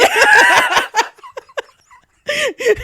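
A dog whimpering and yelping in a rapid series of high, wavering cries, loud and close, with a short pause before a final burst.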